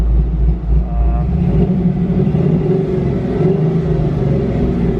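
An LS-swapped 1984 GMC C10 squarebody truck engine revving, with a loud, deep rumbling drone that holds steady and rises and falls slightly, heard close up.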